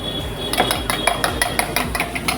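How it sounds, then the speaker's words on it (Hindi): A spoon beating eggs in a bowl for a butter omelette at a busy street-food stall, rapid rhythmic metallic clinks, about two to three per second, close and fairly loud over a constant kitchen hum, with no talking. "और पीछे जो चम्मच की आवाज़ आ रही है तो अंडे को फेंटा जा रहा है।"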